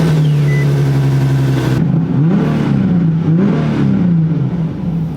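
A car's HR engine idles loudly, then is blipped through several quick revs that rise and fall in pitch, close and with no voices.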